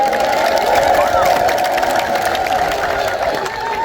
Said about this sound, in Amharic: እንግዳ ያላይደላችሁ ሰዎች ግን እልል በሉ፣ አልደከማችሁም።